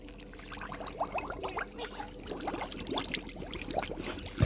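A coyote hide goes into a lukewarm salt and acid water tanning solution, giving soft splashing, trickling and sloshing water sounds at close range, irregular and fairly quiet, with no speech.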